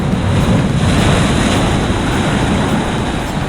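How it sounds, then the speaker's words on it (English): Ocean surf rushing in at rocky tide pools in Laguna Beach, a loud continuous wash of breaking water with heavy wind buffeting the microphone. "We just got splashed by a big wave, so you can see these waves coming in."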